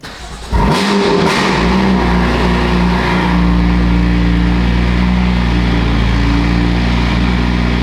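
A BMW M4 engine cranks and catches on a cold start after a brief quiet moment, then settles into a loud, steady, deep exhaust drone at high idle through an aftermarket Valvetronic Designs exhaust.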